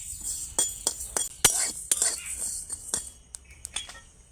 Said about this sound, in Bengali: এবার একটু ভেজে নিচ্ছি এই কালো জিরাও